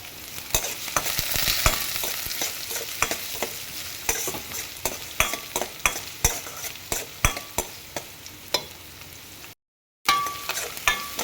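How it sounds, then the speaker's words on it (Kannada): Chopped onion frying in a pan on a gas stove for bread masala toast, a steady sizzle with repeated sharp scrapes and clinks of a spatula stirring, with a brief dropout near the end. "ಒಂದು ಈರುಳ್ಳಿನ ಕಟ್ ಮಾಡಿ ಹಾಕ್ತಾಯಿದ್ದೀನಿ ಸೊ ಇದು ಕೂಡ ಚೆನ್ನಾಗಿ ಫ್ರೈ ಆಗಲಿ"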